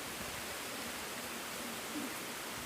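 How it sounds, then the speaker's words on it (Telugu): Heavy rain falls with light wind, making a faint, even broadband hiss that stays constant and unbroken for a few seconds, with no other sounds standing out. "చూడండి ఫ్రెండ్స్ వర్షం అయితే ఇలా ఫుల్‌గా పడుతుంది."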